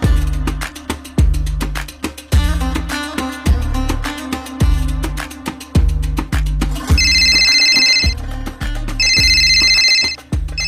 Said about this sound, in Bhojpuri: बाबूजी दोदला दी के फोन ना होता। जल्दी उठाओ उठाओ जल्दी।